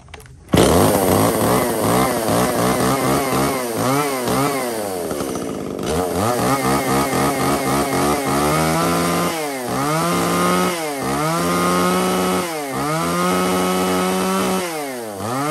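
A small, light two-stroke chainsaw for home use, with a 35 cm bar and a primer bulb, fires up loudly, runs near the mic, then is revved again and again in rhythmic bursts.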